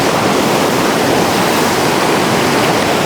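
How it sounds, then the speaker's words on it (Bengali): Hundru waterfall near Ranchi: a loud, steady, close roar of falling water that fills the whole span without a break. "প্রকৃতি প্রেমীদের সাথে সাথে অ্যাডভেঞ্চার প্রেমীদের জন্য হুন্ড্রু ওয়াটারফল একটি আদর্শ জায়গা।"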